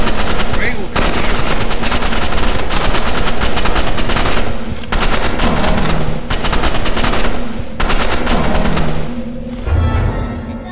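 Rapid automatic gunfire in a shooter video game, loud and close, sustained bursts broken by brief pauses across the span, with some voices faintly mixed in.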